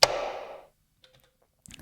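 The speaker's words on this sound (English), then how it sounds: "Then we have another snare, which is a door." A door is struck and sampled as a snare drum: one sharp, close hit with a short rattling decay under a second, followed by a few faint ticks.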